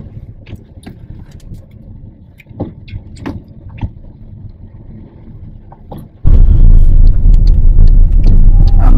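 A car drives on a narrow road toward Tajpur, with a low engine rumble and scattered taps, then a sudden loud, dense roar of heavy rain on the vehicle takes over.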